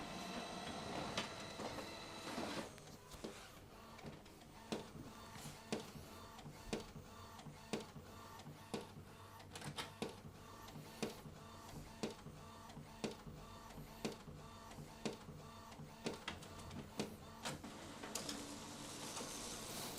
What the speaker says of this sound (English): Printhead nozzle check.